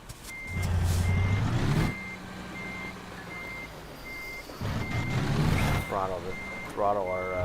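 In American Truck Simulator, a semi truck reverses toward a trailer with steady, evenly spaced backup beeps over a low diesel engine rumble, with rising engine surges and someone talking over the game sound.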